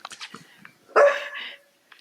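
A dog named Ubu gives a single loud, close bark after some faint whimpering sounds, followed by a brief whine indoors.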